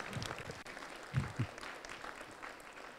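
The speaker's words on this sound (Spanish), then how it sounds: "un fuerte aplauso, agradecemos a Marcos" A conference audience at a family event applauds a speaker, faint and distant clapping with a few louder claps partway through.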